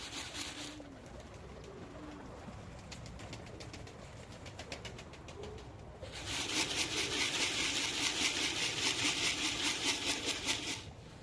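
Pigeons gather on a spring day waiting to be fed, with soft cooing and wing or body rustles throughout, followed by a louder, sustained burst of bright noise in the second half before it cuts off.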